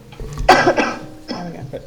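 A couple of rough, throaty coughs close to the mic, the second following after a short pause.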